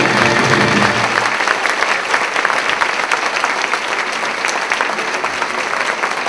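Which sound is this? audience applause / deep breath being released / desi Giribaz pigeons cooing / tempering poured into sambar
audience applause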